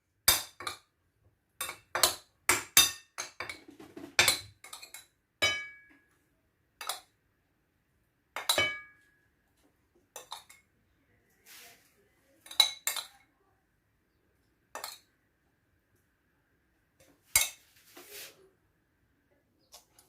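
Metal utensils clink and scrape against a bowl while a cuttlefish salad dressed with salt, spices and olive oil is tossed, sharp intermittent taps spread across the stretch with quiet gaps between, close and fairly soft.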